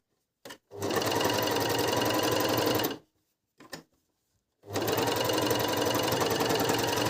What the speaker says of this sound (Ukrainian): обрізали одну голочку і починаємо шить